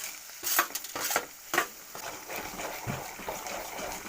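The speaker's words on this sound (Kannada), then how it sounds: "ಈಗ ಸ್ವಲ್ಪ ನಿಮಿಷ ಹುರಿಲಿ ಇವು ಈಗ ಬೆಳ್ಳುಳ್ಳಿ ಹಾಕ್ತೀನಿ ಮತ್ತು ಪುಟಾಣಿ ಹಾಕ್ತೀನಿ" Garlic and peanuts fry in oil in a pan for crispy poha chivda, a soft steady sizzle broken by a few louder stirring scrapes early on, with no voices.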